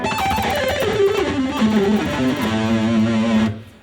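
An electric guitar plays a fast descending run in groups of seven notes stepping steadily downward, then rings briefly before cutting off.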